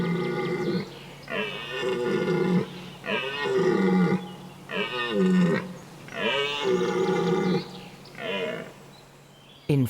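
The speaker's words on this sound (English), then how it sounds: "In full rut, belling or roaring loudly, stags challenge their opponents." Red deer stags bell and roar during the autumn rut in the forests of the northern Vosges, a run of about six long, loud, throaty bellows from nearby in steady succession.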